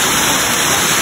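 A waterfall gives a close, loud, continuous rush of falling water with no other sounds.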